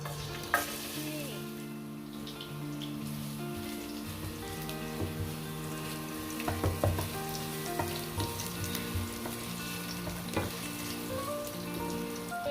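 Garlic dropped into hot oil in a pot sizzles and fries steadily, stirred now and then, with soft clinks and scrapes; no one talks.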